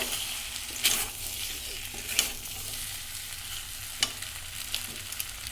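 Butter and garlic sizzle steadily in a pan over raised heat, a constant close hiss with occasional pops and spatula scrapes.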